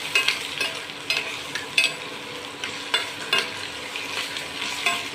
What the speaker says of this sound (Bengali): এরপরে এটাকে ভালো করে নাড়িয়ে নেব।